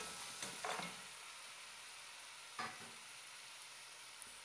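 Beef pieces going into hot masala in a pan give a steady, hissing fry with a few soft stirring scrapes and clatters, close and fairly quiet, no voices.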